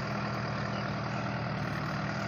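A Solis Yanmar 4x4 tractor engine running steadily while pulling a plough, a continuous low diesel drone with even rumble and no change in pitch, close and alone.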